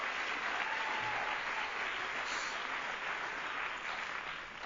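A theatre awards ceremony audience breaks into steady, dense applause that holds at an even level throughout, with many hands clapping at once in a large hall and no voices above it.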